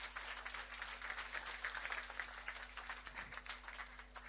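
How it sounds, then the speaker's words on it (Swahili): A church congregation at a deliverance service claps for Jesus, with a faint, dense patter of many hands that stays fairly even and distant throughout. "Pigia Yesu makofi."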